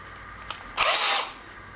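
A single short burst from a power drill whirs up close as it deburrs a hole in an aluminum intake manifold, lasting about half a second over a faint steady background hum.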